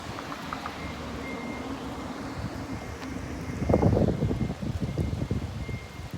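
Cold wind gusting across an outdoor microphone, a steady low rumble of buffeting that swells into a stronger burst midway and then continues unevenly, with no voices.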